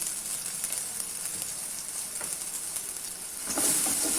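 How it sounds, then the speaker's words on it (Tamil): Small onions and dried red chilies sauté with a pinch of asafoetida for horse gram rasam, a faint steady sizzle that swells louder and hissier near the end. "இந்த சின்ன வெங்காயமும் இந்த காஞ்ச மிளகாயும் இதில் போட்டு வதக்கலாம்."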